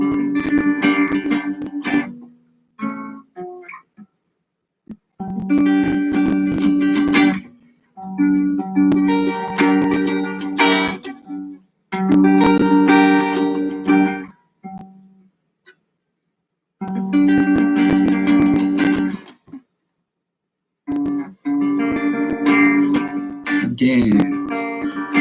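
Guitar chords strummed in short bursts separated by silent gaps, each phrase ringing clearly and fairly loud, practicing inside chord shapes.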